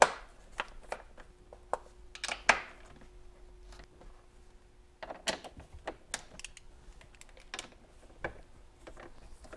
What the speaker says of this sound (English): we'll go ahead and remove these 10 millimeter fasteners